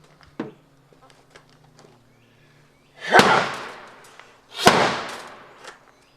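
A homemade wooden sword is struck hard against a car door twice, each blow a loud, sharp crack with a brief ringing tail, spaced about a second and a half apart after a faint earlier tap.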